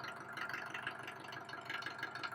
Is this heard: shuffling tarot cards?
no